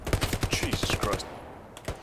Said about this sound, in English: Yeah, there's an MG somewhere.